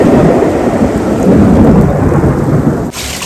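A thunderstorm with heavy rain pours down in Taif, a dense, loud, steady roar of rainfall that fills the scene, with thunder rumbling low underneath and a brief dip near the end.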